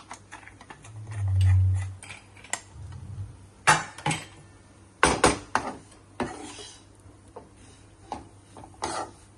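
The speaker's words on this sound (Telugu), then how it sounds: "ఈ పొడి వేగే వరకు మనం ఇలా కలుపుకుంటూ ఉండాలి" Besan flour frying in oil in a pan, with a spoon scraping and clinking against the metal in uneven taps and knocks, alone and fairly close.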